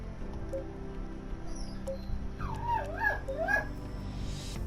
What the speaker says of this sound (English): And that's my dog being a jerk.